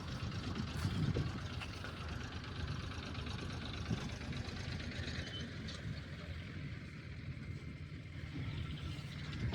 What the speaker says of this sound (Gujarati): એક ટ્રેક્ટર આવી ગયું